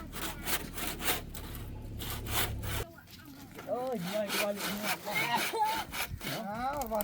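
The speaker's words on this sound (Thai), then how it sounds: "เลื่อยมือพี่น้องเลยบ่มีจักรติงเห็นบ่เลื่อยมือก็ค่อนข้างจะลำบากหน่อยเนาะ" A hand saw cuts through wood in steady back-and-forth strokes at close range, then the strokes fade under a person talking.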